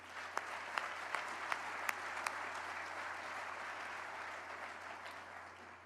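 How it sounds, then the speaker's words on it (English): A crowd applauds at a groundbreaking ceremony for a new Las Vegas baseball stadium. The clapping is dense and sustained and stays at an even level throughout, with a few sharp, prominent claps standing out near the start. "How about a round of applause for what Las Vegas is able to do?"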